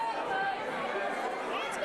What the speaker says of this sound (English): Listen to this crowd. They're really into this.